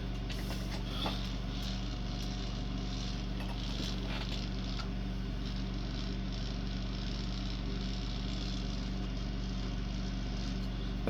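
A custom weight hanger on a 1.9 RC crawler wheel, slightly wobbly, spins steadily in a continuous mechanical drone with a low, even motor hum and no pauses.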